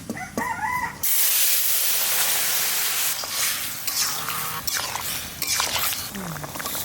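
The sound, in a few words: ash gourd curry added to hot oil with cumin tempering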